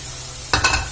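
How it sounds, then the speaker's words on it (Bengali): Chickpeas fry in a pan for chana dal pulao, first with a low steady sizzle. Midway, a few quick scraping stirs break in close and loud, then the sizzle continues. "ছোলাটা দিয়ে ভালো করে আবার নাড়াচাড়া করে নেব।"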